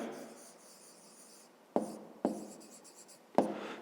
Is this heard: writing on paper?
yes